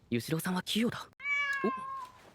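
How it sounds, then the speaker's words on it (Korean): An anime cat in Demon Slayer gives a drawn-out meow after a burst of speech-like vocal sounds, fairly close and clear. "피를 채취하자 어디선가 나타난 고양이."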